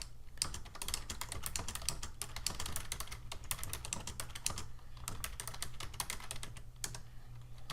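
Fingers type on a computer keyboard in a steady, rapid stream of close, light clicks lasting several seconds with brief pauses between runs.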